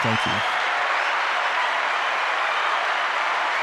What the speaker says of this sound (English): So everybody, please give a big round of applause for Eric, also known as EPIK ONE.